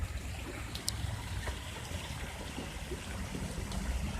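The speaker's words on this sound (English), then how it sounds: "here we are, guys, at the hot water cascade" Hot spring water, about 140 degrees from natural underground springs on a volcano at Bathhouse Row, pours down a cascade in a steady rushing splash, close and continuous with a few brief ticks over the flow.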